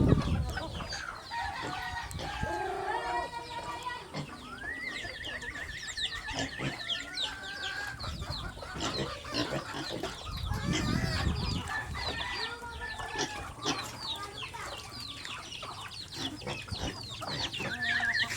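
Chickens and a rooster on a provincial farm, with continuous clucking and squawks close by, a short crow partway through, and some speech in the background.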